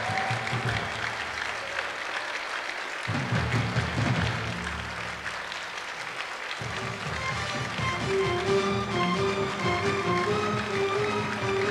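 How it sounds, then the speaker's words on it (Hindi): A large audience applauds at a stage tribute event welcoming Lata Mangeshkar, sustained clapping that swells and dips in waves for about twelve seconds, filling the hall with no speech over it. "लता मंगेशकर, खूब जोरदार तालियों से उनका स्वागत किया जाए।"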